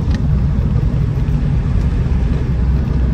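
Steady low engine rumble of a Land Rover Defender 90 TDCi CSW on the move, a continuous loud drone from inside the vehicle with no talking.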